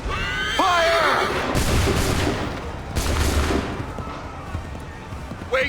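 Musket volleys in Assassin's Creed III, a crackling, rolling burst of massed gunfire followed by a second loud volley, with shouted battlefield commands in the background.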